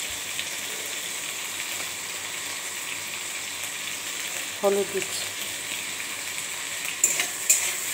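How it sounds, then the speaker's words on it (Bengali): Okra and potato frying in oil with cumin, nigella and salt, a steady low sizzle with a few utensil clinks and stirring sounds, while a voice briefly speaks over it. "ভেন্ডি আর আলু দিয়ে দিচ্ছি তেলে, নুন দিচ্ছি,"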